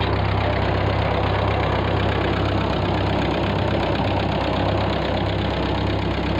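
A 1948 Ford 8N tractor engine idles close by with a steady, unbroken low rumble and a fast, even knock throughout. No one speaks.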